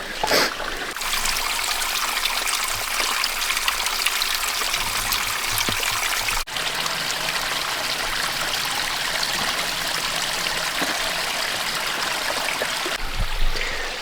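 A waterfall and stream in the Smoky Mountains rush and trickle in a loud, continuous wash of flowing water, close by and steady throughout.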